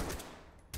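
Sharp gunshot blasts from a Beowulf rifle in the tactical shooter Ready or Not, a quick burst at the start and another at the end, separated by a short quieter gap, fairly faint overall.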